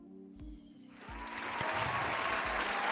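A guest on a talk show plays his own applause clap track, and a recorded crowd's clapping swells from quiet to a full, steady roar of applause over a low musical backing.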